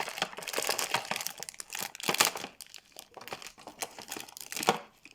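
Close, crisp crinkling and tearing of plastic toy packaging as a Moody Minna doll with purple hair is unboxed, in irregular bursts of rustling and ripping throughout, with no talking.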